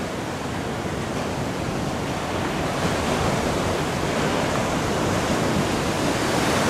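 Continuous roar of sea surf breaking on the shore at Galle Face in Colombo, a broad, steady wash of waves that swells slightly louder toward the end, with no voices.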